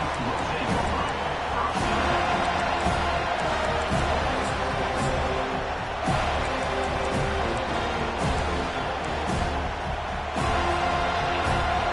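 A crowd at a college football game in a packed stadium sends up a continuous loud roar of cheering and noise, with a commentator's voice running over it.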